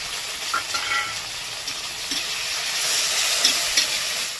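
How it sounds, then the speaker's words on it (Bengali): Tomatoes fry in oil with a continuous bright, hissing sizzle, fairly loud and even, with faint occasional pops and no talking. "এবার এটাকে ভেজে নেব।"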